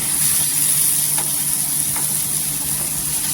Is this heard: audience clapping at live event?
no